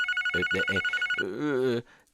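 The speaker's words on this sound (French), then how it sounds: "Le téléphone, il sonne encore." A telephone rings in rapid, evenly spaced electronic pulses for about a second, then a voice speaks briefly over the fading tone.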